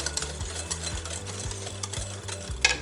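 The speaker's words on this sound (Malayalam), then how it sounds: "ഇനി നമുക്ക് ഈ പൊടികളെല്ലാം നല്ലപോലെ ഒന്ന് മിക്സ് ചെയ്തെടുക്കാം." Dry powders for an eggless breakfast batter, with a quarter teaspoon of Eno fruit salt added as a baking soda substitute, are stirred in a bowl with steady, rhythmic scraping strokes, close and moderately quiet, with no talking.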